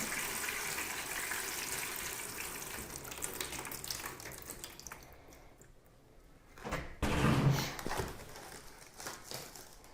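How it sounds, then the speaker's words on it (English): Water pours into a tray of kale microgreens for bottom watering, a soft running trickle at first that thins out, then a brief louder splash near the end, close by with no talking. "I just always give it a bottom watering, and you just want to kind of fill it to these little ridges are covered in water."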